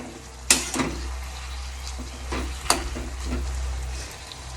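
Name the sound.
vegetables frying in pan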